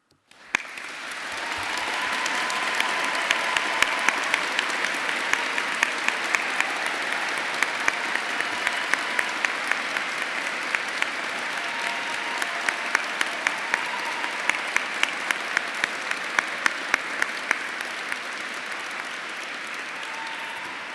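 Graduation audience inside Canterbury Cathedral applauds in memory of lost family and friends, a sustained, even wash of clapping that swells quickly and holds for about twenty seconds, softened by the large reverberant space.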